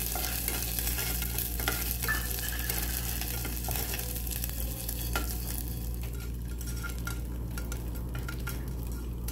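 Coconut pieces roasting in a pan for kalathappam, a steady soft sizzle with repeated scraping and stirring clicks of a utensil against the pan, close and continuous without speech.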